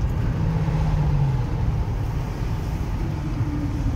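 BMW E60 M5 engine in a tunnel, a steady low rumble with a rising rev tone that swells and falls back, close and loud with reverberant tunnel echo.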